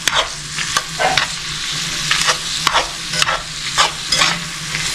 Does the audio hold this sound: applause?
no